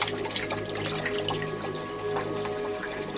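Water sloshes and splashes in a fish tank as snails are shaken out of hides, a continuous close burble of liquid movement over a steady pump hum.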